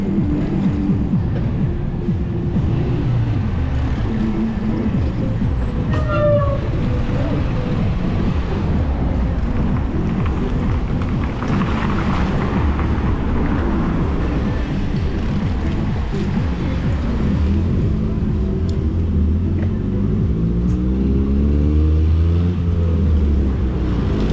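A PAZ bus pulls away on a January road between Adler and Sirius in Sochi, its engine droning loud and steady with low rumble and rising gear whine throughout, no voices.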